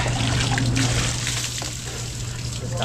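Water is poured over a person while bathing, a continuous close splashing and trickling under a steady low hum, with some voice present.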